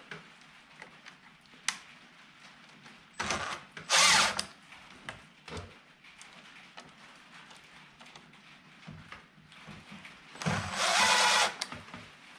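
A power drill drives screws into wood during a skid house build, with short buzzing bursts separated by quiet handling noises, the longer whirs loud and close.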